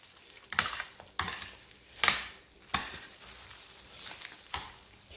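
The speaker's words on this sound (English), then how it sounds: "Hear that sizzle." Chicken breast frying in a pan, a soft crackling sizzle broken by repeated scraping stirs at a steady pace, close and moderately quiet, with no talking.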